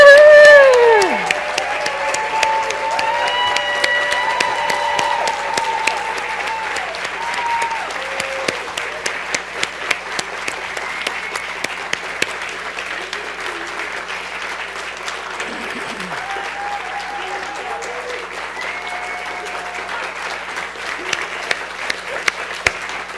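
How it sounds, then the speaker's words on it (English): An audience gives a woman named Jenny a standing ovation, sustained loud clapping with whoops and cheers at the start that settles into steady applause, and voices calling out over it. "can we give Jenny a standing ovation?"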